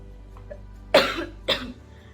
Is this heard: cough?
yes